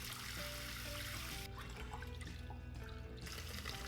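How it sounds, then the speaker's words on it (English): Water runs steadily from a tap while dried shiitake mushrooms are rinsed, a continuous close trickle and splash with faint clinks, no voices. "Rinse the dry shiitake mushrooms"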